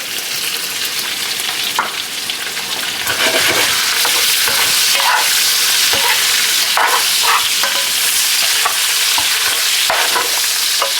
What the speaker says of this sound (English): now we see some browning happening on there, in with our garlic